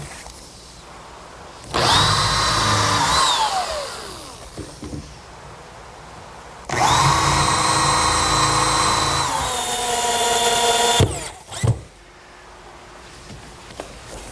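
A cordless power drill drives screws into a wooden cleat on a picnic table, two long whirring bursts with pitch sliding down as each screw seats, then a brief knock and quiet pauses between.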